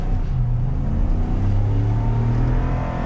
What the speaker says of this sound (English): So we'll go ahead and just get up to some speed, feel out the eTorque system.